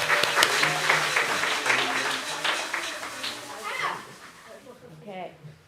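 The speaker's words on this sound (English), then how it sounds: "I really want you to get a lot of use out of those noisemakers and pom-poms, so please give a cheer right now" An audience at a family service cheers with noisemakers and pom-poms, a dense burst of clapping, whoops and rattling that gradually thins out, with voices mixed in.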